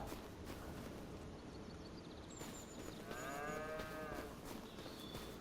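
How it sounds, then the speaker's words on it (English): Cattle mooing in the farming video game Farming Simulator 25, a single drawn-out moo heard over a steady background bed of ambient farm noise, fairly faint. "let's go and have a little check on the cows"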